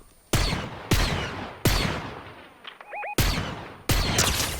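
Five loud, sharp gunshots in the video game Fortnite ring out at irregular intervals, each with a short echoing tail, and a brief electronic beeping chirp sounds between them.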